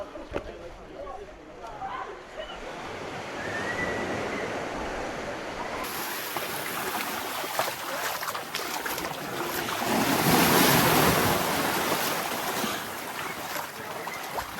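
Sea waves wash and churn in a coastal rock pool at Kynance Cove, Cornwall, with gusty wind buffeting the microphone, the surf swelling louder toward the end as a voice speaks over it.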